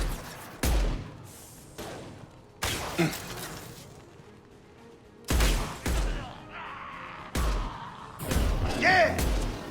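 Gunfire in the Mass Effect 2 video game: several sharp, loud shots or short bursts at irregular intervals, separated by quieter stretches of background noise.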